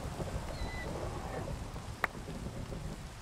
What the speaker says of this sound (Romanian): acum plouă. Oh, God, mai și fulgeră!